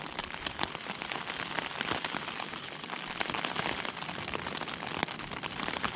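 Rain pours steadily onto a wild camping site with a tent during wind and rain, a dense close patter of drops with occasional louder hits and no talking.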